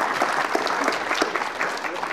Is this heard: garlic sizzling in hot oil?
no